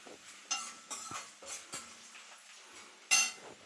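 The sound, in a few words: plantain frying in a pan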